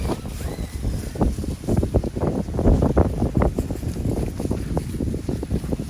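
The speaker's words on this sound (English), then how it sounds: "Oh my gosh, the wind is crazy." Strong wind gusting outdoors, buffeting the microphone in a loud, uneven roar with repeated bursts, while an RC car runs nearby.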